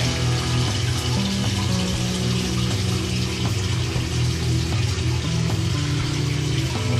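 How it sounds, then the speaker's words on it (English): Water drains from a fish tank as a continuous, loud rushing and gurgling flow that holds steady throughout, with no voices over it. "You can see now I'm starting to drain down the water level a little bit."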